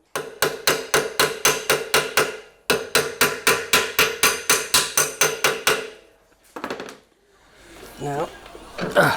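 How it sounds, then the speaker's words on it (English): A panel hammer strikes sheet metal while a custom bonnet release is being shaped, two fast even runs of sharp ringing blows, about a dozen each with a short pause between, then a few scraping handling sounds and a person speaking. "Now just finish it off with a panel hammer."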